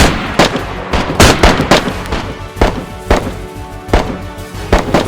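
Gunfire near a building's main entrance: sharp, loud bursts and single shots cracking at irregular intervals, dense and close, with no talking.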